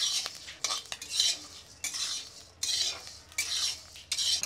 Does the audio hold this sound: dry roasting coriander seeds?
yes